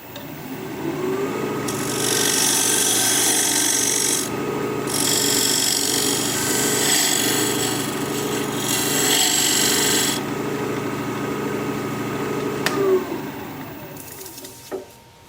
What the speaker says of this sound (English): I'll just use this spear point tool, diamond point tool, to square up the sides of the tenon